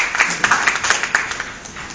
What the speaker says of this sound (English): let us give a big round of applause to Encik Saiful